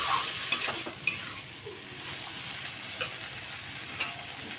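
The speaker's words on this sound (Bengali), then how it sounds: "এটা ভালোভাবে সবজির সাথে একটু মিশিয়ে নেব বেশিক্ষণ ভাজবো না" Ridge gourd with peanuts and vegetables is stir-fried in a pan, giving steady close sizzling with scattered scraping clicks of a utensil stirring through the mix.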